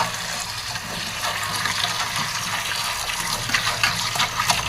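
Freshly picked henna leaves are washed in water, a steady close splashing and gushing of water with small swirls and sloshes throughout and no speech.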